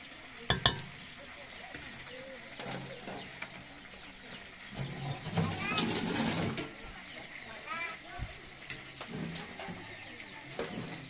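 Chicken meat for tandir fries in a pan with a soft, steady sizzle, broken by occasional sharp clanks of stirring, with faint bird cooing in the background.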